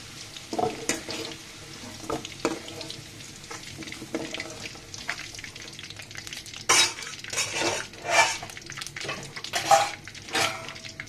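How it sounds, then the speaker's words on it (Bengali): Potato pieces fry in a pan with a soft sizzle while a utensil scrapes and clinks against the metal in repeated irregular stirring strokes, close and fairly loud. "প্রায় পাঁচ মিনিট মতো ভাজা ভাজা করছি এই পর্যায়ে আমি আলুটাকে উঠিয়ে নিব"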